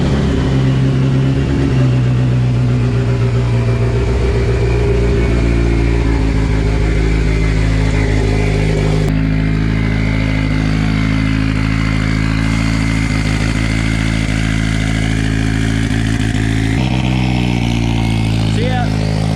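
A tuned Talon's engine roars loudly and continuously up close, its pitch rising and shifting as it revs, with voices faintly underneath.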